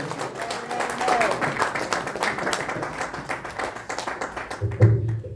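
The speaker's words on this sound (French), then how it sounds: "nous applaudissons cet esprit-là" Congregation applauding during a French-language church service, uneven clapping rising and falling with voices mixed in and a low thump near the end.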